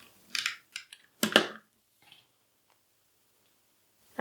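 A tape runner applies adhesive for a papercraft project, producing a few short dry clicks and rasping bursts in quick succession, then quiet, with another click at the end; no talking.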